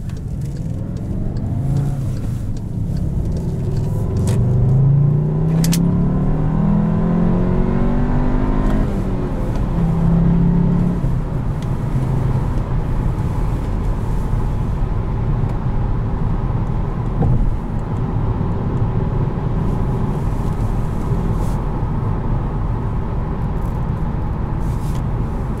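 A 2017 Volkswagen Jetta GLI with a manual gearbox pulls hard from inside the cabin, its engine rising and falling through gear changes before settling into a steady loud drone of engine and road noise.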